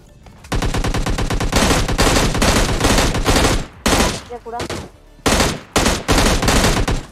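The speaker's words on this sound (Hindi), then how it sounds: "बंदे गाड़ी और सज्जन पुरुष सब पे गोलियां चलाई जाती हैं" Rapid bursts of gunfire in PUBG Mobile Lite, loud and dense, with automatic fire rattling almost continuously and a few brief pauses between volleys.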